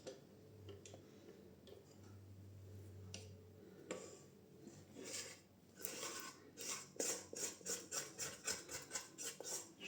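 A utensil scraping a bowl of soft, liquid donut batter, faint scattered scrapes giving way to a run of rhythmic rasping strokes toward the end, close and quiet.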